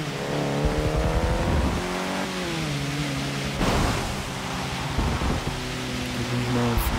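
Race car engine in the Forza Motorsport 6 racing game, a loud buzzing tone that shifts pitch as the throttle is lifted and reapplied through a corner, with a brief whooshing burst midway and no talking.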